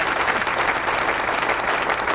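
Dense, steady audience applause fills a concert hall at the Channel i Shera Kontho 2008 music festival, honoring a song's lyricist and composer; the clapping stays loud and even throughout, with no pauses.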